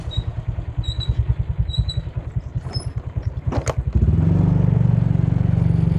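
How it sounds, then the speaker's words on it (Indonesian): A motorcycle engine with a ported engine and aftermarket exhaust idles with a loud, choppy, uneven pulse, then revs up into a steadier, heavier drone, close by. "berisik banget ya. Kalau motor udah portingan pasti gak bisa adem gitu."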